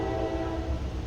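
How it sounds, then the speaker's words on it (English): Train horn sounding as a train passes close by, a loud sustained tonal blast over heavy low rumble, continuous through the whole moment. "Of course, there's got to be a train."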